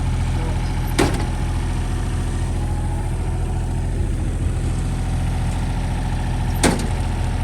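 A mower engine idles steadily at close range, a low continuous drone with two sharp knocks standing out against it.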